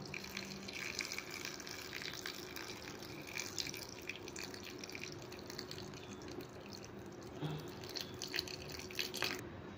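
Warm boiled milk pours into a bowl of flax, a soft, faint trickle and splash over a low background, with no speech.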